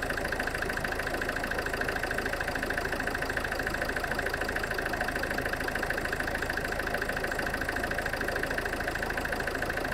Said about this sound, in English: So we've already started the engine.